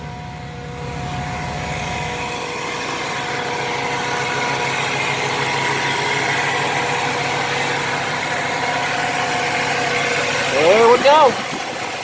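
A 1970 Chevy truck engine idles steadily with a noisy fuel pump adding a constant whirring hum, while a person speaks briefly near the end.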